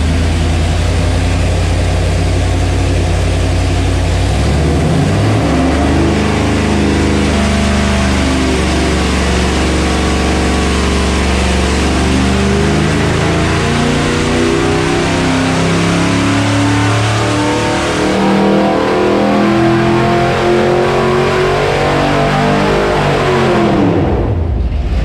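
A 406 small-block Chevy V8 with a single-plane intake, HEI distributor, 750 Holley carburetor and 1 3/4-inch headers roars on a dyno, climbing steadily through a long loud sweep before the throttle snaps shut.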